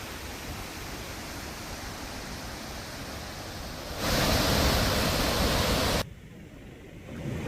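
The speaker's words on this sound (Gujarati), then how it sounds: "ગીરાધોધના દ્રશ્યો સામે આવ્યા છે કે જ્યાં મોટી સંખ્યામાં પ્રવાસીઓ ઉમટી રહ્યા છે" The Gira waterfall in Dang near Saputara, swollen after heavy rain, gives a continuous broadband roar of rushing water. The roar grows louder for a few seconds in the middle, then drops back.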